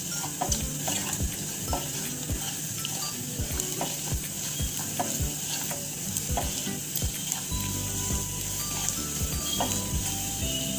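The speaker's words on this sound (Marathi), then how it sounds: "व हे पुन्हा आपण व्यवस्थित परतून घेणार आहोत." Spices with red chili powder and salt sautéing in a pan, a steady close sizzle and crackle broken by repeated scraping and stirring clinks of a spoon against metal, with no voices.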